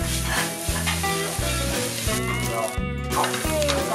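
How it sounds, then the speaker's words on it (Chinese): Rice is stir-fried in a wok with ketchup, onion and minced garlic, giving a continuous loud sizzle and tossing noise under background music. "这样子我们饭已经炒好了"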